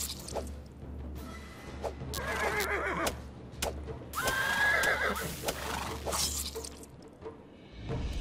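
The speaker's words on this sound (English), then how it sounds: "Oh, they sound like horses." Horses neigh repeatedly in the video game Starbound in sharp, shrill whinnies over a low background rumble, with soft hoof-like clatter between the calls.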